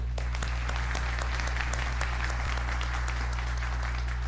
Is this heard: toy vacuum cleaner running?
no